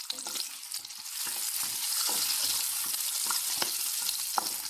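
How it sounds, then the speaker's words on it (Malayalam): Small onions sautéing in a pan, a steady close sizzle with scattered clicks and scrapes of stirring throughout, no voices. "15 ഉള്ളി എടുത്തിട്ടുണ്ട്. എന്നിട്ട് നമുക്കൊന്ന് വഴറ്റിയെടുക്കാം."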